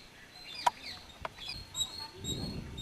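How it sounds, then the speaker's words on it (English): Chickens at a riverside fishing camp on the Tungabhadra river, with a few short clucks and calls over open outdoor ambience, moderately near. "there are some chicken"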